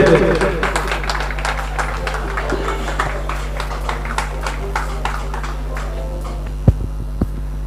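Applause from the audience at a chapter executives' investiture and inauguration ceremony, greeting the incoming chairman's wife. It is a steady wash of clapping over a constant low hum, and a few sharper claps stand out near the end.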